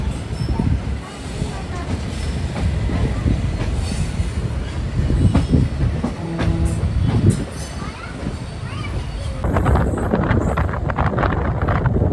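A passenger train, the Trichy to Palakkad Town express, rushes along at speed on the Palakkad–Coimbatore line with a steady, loud rumble and rattling wheels, wind buffeting throughout and a faint voice underneath.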